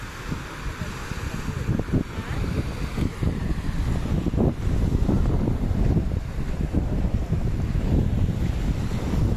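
Beside a white sand beach at Mactan in Cebu, ocean surf washes in a continuous low rumble while gusty wind buffets the microphone, steady and close throughout.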